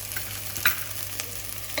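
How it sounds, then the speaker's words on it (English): Mustard seeds sizzle quietly in hot oil for a Sri Lankan dahl curry, a soft steady fizz broken by a few sharp pops and a light stir, with no voices. "We are also going to add in the mustard seeds."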